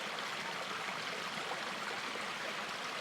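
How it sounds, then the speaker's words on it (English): A little creek flows continuously with a steady, close rushing and trickling wash and no other sounds. "as if you're sitting by this river, this little creek, watching the water go by"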